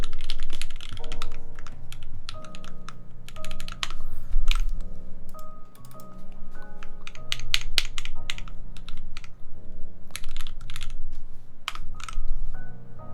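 Continuous brisk typing on a custom AEBoards Constellation mechanical keyboard, with dense clacky keystrokes close to the microphone and a low background hum underneath.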